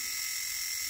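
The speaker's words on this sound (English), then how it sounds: "If you can see down in there, the valve is opening." A motorized push-button shower valve opening gives off a brief, steady high-pitched electric whir, close and continuous for under a second.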